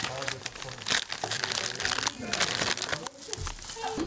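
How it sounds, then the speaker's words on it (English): Plastic bag holding kimchi crinkles and rustles loudly and continuously while being handled, mixed with people talking nearby. "Can keep your kimchi in plastic bag."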